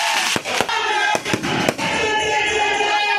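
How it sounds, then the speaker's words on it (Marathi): Night fireworks display at Bhim Janmabhoomi in Mhow, Indore: several sharp bangs go off within the first two seconds over a steady crackling, fizzing background, loud and fairly close. "रात्रीची फटाक्याची आतिषबाजी"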